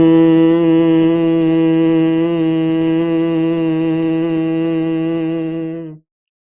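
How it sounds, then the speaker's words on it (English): A Bhramari breath hum, a steady nasal tone on one low pitch exhaled through the nose, holds loud and unbroken for about six seconds before cutting off into silence. "exhale twice as long through the nose at a pitch or a tone what that hum brings to you"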